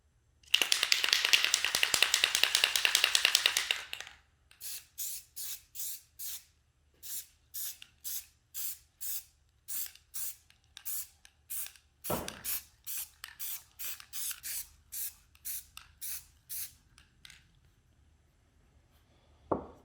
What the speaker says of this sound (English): So we are going to take this and we are going to spray paint this now.